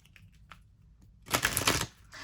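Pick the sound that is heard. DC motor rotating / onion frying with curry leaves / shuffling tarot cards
shuffling tarot cards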